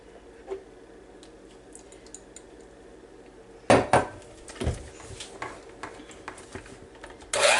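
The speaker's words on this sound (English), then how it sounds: "We've got 3 eggs I have just broke up into the bowl, and we're just going to mix them up just a little bit." Three broken eggs being beaten in a bowl for a chocolate cake batter: quiet at first, then several loud clattering strokes of the utensil against the bowl in quick bursts.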